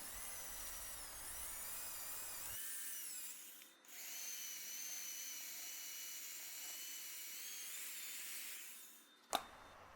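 Final sanding of the base of a hollowed wood crotch piece on a woodturning lathe, a steady whirring motor hum with a shift in tone partway through and a brief sharp knock near the end, no voices.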